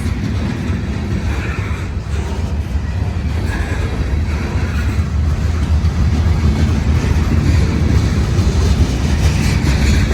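A CSX freight train rolls steadily past nearby, its heavy continuous rumble and wheel noise filling the whole stretch at a loud, even level without pause.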